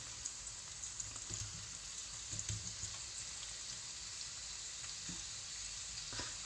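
Peppers and onion fry in a pan with a faint, steady sizzling hiss, broken by a few soft knocks and stirs, quiet and without voices.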